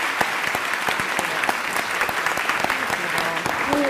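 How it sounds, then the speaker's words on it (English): An audience claps enthusiastically, dense overlapping applause with sharp hand-claps, steady and loud from start to finish. "let's give a big round of applause for Ms. Sandberg."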